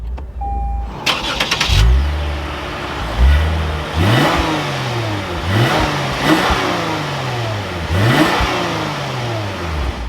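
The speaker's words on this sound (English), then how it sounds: "let's fire this up and take a listen to that NA V6" A 2024 Lexus IS350 F Sport's naturally aspirated V6 fires up after a chime, settles briefly, then is blipped through a series of sharp revs that rise and fall back to idle, loud and close.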